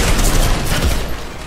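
Dense, rapid gunfire from Fortnite, a loud continuous barrage of overlapping shots lasting over a second without pause.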